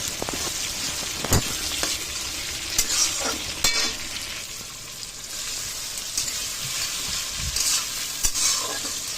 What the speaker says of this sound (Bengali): তো এর মধ্যে আমি দিয়ে দেবো টমেটোটা দিয়ে দেবো, যে টমেটো কাটা ছিল সেটাও দিয়ে দেবো। দিয়ে আবারও একটু ভালো করে ভেজে নেব।